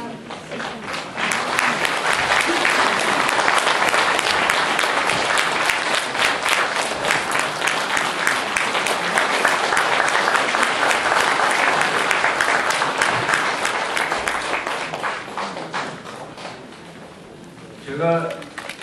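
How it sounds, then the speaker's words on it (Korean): A lecture audience gives long, loud, sustained applause for a flower presentation, dense clapping that holds steady before tapering off, with a voice speaking briefly at the end. "박수"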